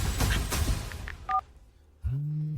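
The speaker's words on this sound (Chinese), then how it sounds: "快给衍琛打电话问问，这到底是怎么回事？" A brief electronic keypad beep sounds as a telephone is dialed, then after a moment a steady low ringing tone begins.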